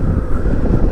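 Strong wind buffets the microphone outdoors during off-road training, producing a continuous loud, low rumbling roar with no pauses and no talking.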